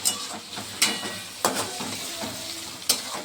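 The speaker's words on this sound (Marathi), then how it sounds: "अद्रक लसूण पेस्ट पण टाकून घेतलेला आहे हे चांगलं परतून घ्यायचं आहे" Ginger garlic paste sautés in a hot pan, a continuous close sizzle with a spatula scraping and clacking against the pan in a few distinct strokes, no talking.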